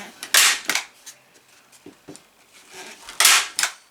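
Staple gun firing staples through drywall angle bead, several sharp snapping shots spaced irregularly with two louder bursts, close by with small clicks and handling noise between them and no talk.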